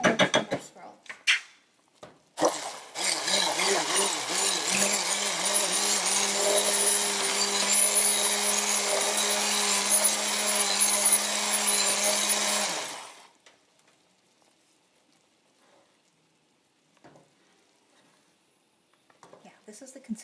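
Blender pureeing cream of mushroom soup to a chunky consistency, a loud steady whir running about ten seconds and then cutting off, with brief speech before and faint handling noises after.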